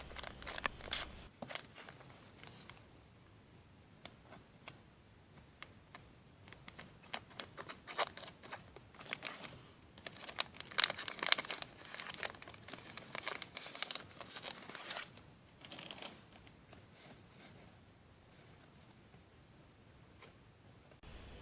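The plastic wrapper of a McDonald's Happy Meal Pokemon card crinkling and tearing as it is opened, a faint, close, irregular rustle with scattered sharper crackles and no talk.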